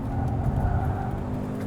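Cabin hum of a 2025 Ford Maverick Lobo truck driving in Lobo mode, a steady low engine and road drone that stays close and even, with no talk.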